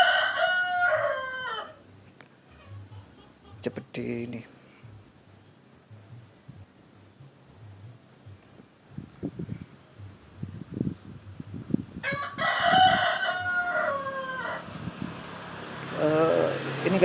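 A rooster crows near a garden of flowering houseplants, three drawn-out harmonic calls spread apart, fairly close, with brief speech and scattered rustling between them.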